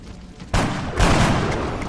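Heavy gunfire in the turn-based tactics game XCOM: Enemy Within arrives as two loud, booming bursts about half a second apart, each leaving a rumbling tail.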